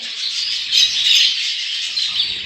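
A budgerigar chirps and warbles continuously up close, a bright, chattering stream of high-pitched twittering with no talking.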